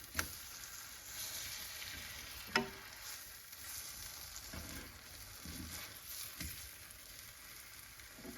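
Beef scaloppine slices fry in a pan for scaloppine al marsala, making a soft continuous sizzle with a few sharp clicks and pops. The sound is fairly quiet and close, with no talk.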